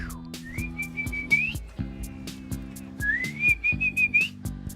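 A person whistles two rising, sustained tones to imitate the sound of a whistling well, separated by a short pause, heard close over steady background music.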